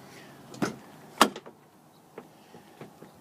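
Power windows and door locks on a 1999 Ford F250 Super Duty crew cab diesel operate nearby as a few sharp mechanical clunks and clicks, followed by softer scattered actuator taps.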